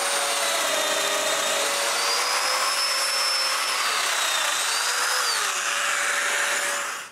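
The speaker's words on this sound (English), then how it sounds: "Now I can mark the placement of the domino mortises and cut them." A domino joiner cutting mortises in wood for a bathroom towel cabinet gives a steady, loud, high-pitched motor whine with shifting cutter tones, running continuously for about seven seconds before winding down.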